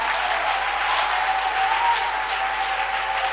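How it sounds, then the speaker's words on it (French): A church congregation claps in praise during a worship service, steady dense applause that is even and loud throughout with no voices. "I will give the Lord a big clap. of praise."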